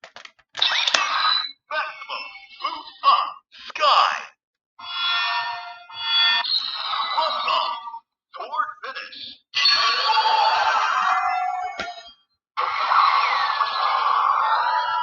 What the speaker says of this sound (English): the actual finishing attack sound is different depending on which key you insert